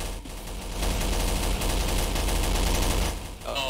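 Rapid, continuous machine-gun fire in Garry's Mod Zombie Survival rattles loud and close for several seconds without a break, with a brief metallic ring near the end.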